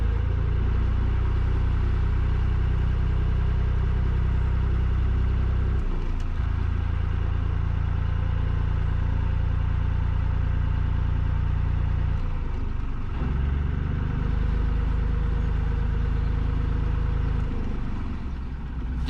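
A narrowboat's diesel engine idles in a steady low thrum while reversing into a lock entrance, loud and close for nearly twenty seconds, with brief shifts in the drone and no talking.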